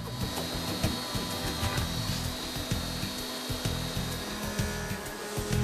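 A Huron milling machine spindle runs at 24,000 RPM with a feed of 7 meters per minute while machining parts, making a dense, continuous mechanical whir threaded with rapid rhythmic cutting pulses.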